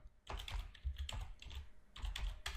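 Computer keyboard typing in several quick bursts of keystrokes, close and clear, with no voices over it.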